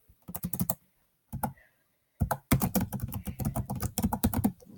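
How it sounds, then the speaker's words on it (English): Someone types on a computer keyboard up close in quick bursts of clattering keystrokes separated by short silences, with no voices. "I can't speak while typing at the same time."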